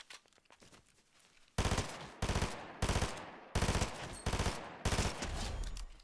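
Gunfire from a player's weapon in a video game comes in six sharp bursts of rapid shots after a stretch of fainter distant popping, each burst loud and close with brief gaps between them.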